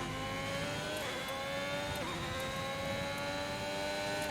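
Formula 1 race cars in a career-mode racing game, a loud sustained high-pitched engine whine with shifting tones as cars close in and pass, continuous and dense throughout.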